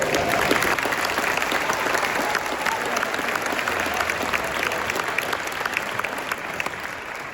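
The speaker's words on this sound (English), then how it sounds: "Give them another big round of applause" A large audience of about 600 at a 7th and 8th grade spring concert gives sustained applause for solo ensemble students, a steady, dense roar of clapping that stays even throughout with no talking.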